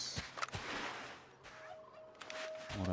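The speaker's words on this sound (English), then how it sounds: "Turkeys." Turkeys gobble in the video game Red Dead Redemption II, several short rattling gobbles bursting out over a quiet outdoor ambience, with a faint tonal note partway through.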